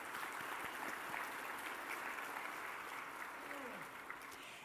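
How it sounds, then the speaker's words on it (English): Conference audience applauding award winners at a general session, a sustained wash of clapping from a large room at moderate level, steady throughout and tapering slightly at the end. "if we could give them one more round of applause."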